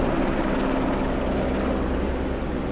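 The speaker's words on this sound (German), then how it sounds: "Ein Heli." A helicopter flies in a video game, its rotor and engine making a loud, steady, unbroken roar with no voices.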